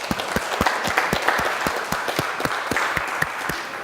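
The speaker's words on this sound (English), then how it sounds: "Let's get a round of applause for everybody here today." A seated crowd at a church-hall senior luncheon applauds, with sharp, distinct claps standing out in a loose rhythm over a steady clapping wash.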